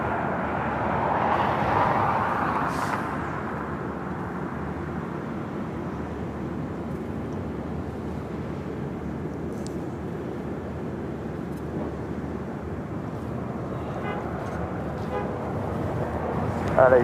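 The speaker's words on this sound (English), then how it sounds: "Flight 2900 headed to Fort Lauderdale, Florida. It's an A321 next takeoff." A JetBlue Airbus A321 taking off at LAX, its jet roar swelling early and then settling into a steady, moderately loud rumble that carries through to the end.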